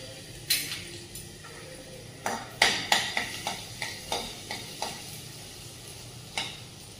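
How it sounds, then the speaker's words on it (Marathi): Garlic and ginger sizzle steadily in hot oil while a spatula stirs them, striking the pan in about a dozen sharp, irregular clinks over the soft, continuous frying hiss. "तेल तापले तर त्यामध्ये आपण थोडासा लसूण आणि आलं टाकून घेणार आहोत"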